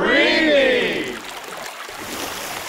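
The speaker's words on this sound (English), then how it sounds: "listen to the sound of the Stillaguamish River rushing by" The Stillaguamish River rushes over river rocks beside a campground beach, a steady, moderate broadband wash that continues after a short stretch of someone talking at the start.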